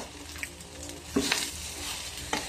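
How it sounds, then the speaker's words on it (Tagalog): Cabbage and tough carabao meat are stirred in a pan, with a soft, low sizzle and a few scraping strokes of the spatula, quiet and close, with no talking. "Saka repolyo. Haluin natin guys."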